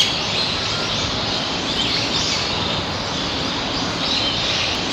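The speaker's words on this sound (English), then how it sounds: "Just listen to the sounds of the birds chirping in the woods." Birds chirp in the woods by a shrine in Wakayama, a dense, steady high twittering heard at moderate distance, continuous throughout with no voices.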